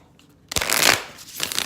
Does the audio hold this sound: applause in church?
no